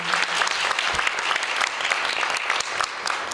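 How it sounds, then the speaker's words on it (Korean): Steady, dense applause fills a hall as an audience claps for a professor presenting an award and the winning team at a university debate competition final, with no voices over it. "시상해주신 나정은 교수님과 입상한 팀에게 큰 박수 부탁드립니다."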